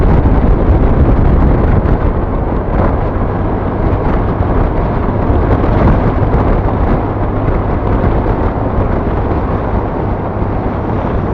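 Steady, loud wind rush buffets the microphone during a long motorbike ride on the road to Tacloban, a continuous broadband roar with no talk over it.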